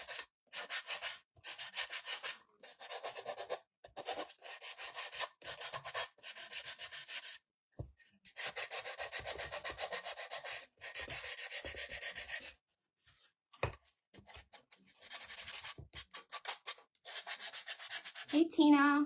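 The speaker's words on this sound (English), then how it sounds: "let's sand a little bit" Hand sanding of a craft piece for a fall pumpkin floral arrangement, heard as close, steady back-and-forth rubbing strokes in bursts with brief pauses, no talking.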